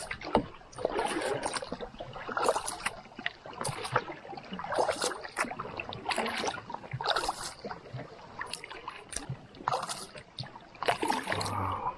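Rhythmic paddle strokes dip and pull through the water of Lake Timiskaming from a canoe, each stroke a close splash and drip repeating roughly every second, with quiet gurgles between and no talking.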